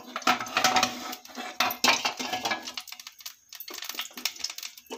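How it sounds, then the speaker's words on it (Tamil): Oil being tempered for rasam in a heated pan on a home stove, with clinking and scraping of metal cookware and utensils in bursts, close and fairly loud, no voices. "இதில் ரசம் தாளிச்சு விட்ருலாம்."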